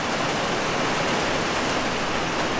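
Heavy rain pours onto a school bus being converted into a skoolie, a loud, constant wash of broadband hiss with no breaks.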